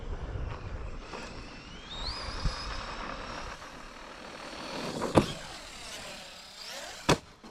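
A Team Associated Rival MT10 RC monster truck runs at full throttle, its electric motor whining high and shifting pitch as it moves off at a distance, with wind noise and a couple of sharp thumps from landings or impacts.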